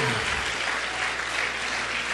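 Congregation in a church clapping hard and continuously, a thick roar of applause from many hands at close range, with a low thump at the start and murmured voices beneath.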